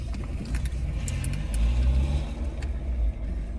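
A car engine idles close by with its headlights on, giving a low, steady rumble that swells briefly midway, with a few light metallic clinks above it.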